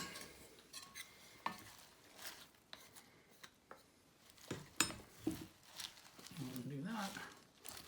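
Wooden spoon stirring couscous with parsley in a bowl, giving repeated scraping and knocking strokes at close range with brief clatters, while a person talks over the mixing.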